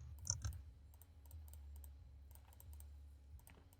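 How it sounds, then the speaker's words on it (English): Quiet computer keyboard typing in scattered bursts of light clicks, close but soft, over a low steady hum with no talking. "let me finish typing"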